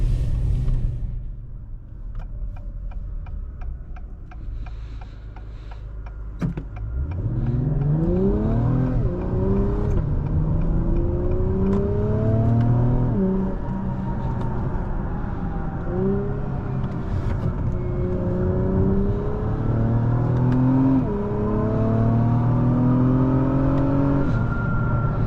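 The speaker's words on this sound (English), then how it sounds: "The TLX Type S sounds really good" A 2023 Acura TLX Type-S engine rumbles low at idle, then accelerates hard through several gear changes while driving, its rising whine repeatedly dropping at each shift, loud and close from inside the car without talking.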